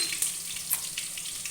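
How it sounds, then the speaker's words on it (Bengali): Steady crackling sizzle of small-cut potatoes frying in hot oil, close and continuous, with a few sharper pops. "ছোটো ছোটো করে কেটে রাখা আলুগুলো হালকা ভাজা হতে থাক।"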